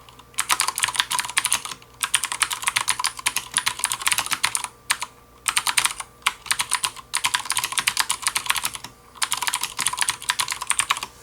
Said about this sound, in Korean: 아주 부드러우면서도 청축의 요 사운드가 아주 경쾌하네요